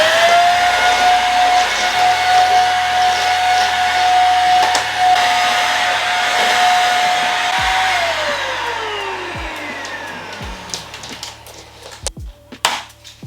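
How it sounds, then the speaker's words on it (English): A vacuum cleaner hoovers a room, its loud steady whine running close up before the motor winds down and falls in pitch, followed by bumps and clunks of the machine being handled. "Let's hoover, guys, let's hoover."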